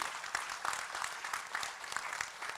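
An audience applauds at a Patanjali and Ruchi Soya event in Indore, with steady, dense clapping from a crowd continuing throughout.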